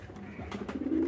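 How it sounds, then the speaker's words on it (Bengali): Young pigeon cooing in a loft, a soft low rolling coo rising toward the end over faint background rustle, no talk. "বাচ্চাটা ডাক দেখছেন"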